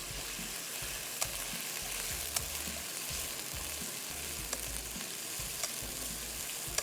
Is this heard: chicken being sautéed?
yes